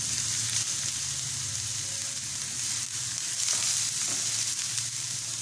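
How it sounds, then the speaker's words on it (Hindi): Ground onion and green chili roasting in a pan for tomato chutney, a close, steady sizzle with soft bubbling pops that stays at one level and has no talk over it. "अब ये जो प्याज और सब्ज़ मिर्च ग्राइंड की हुई थी ये ऐड कर देंगे। इनको हल्का सा रोस्ट करेंगे।"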